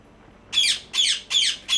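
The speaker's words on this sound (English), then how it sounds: "I just want to apologise for the noise that my birds make" Pet birds, a parrot among them, let out four loud, harsh squawks in a steady rhythm, close by and with no talking over them.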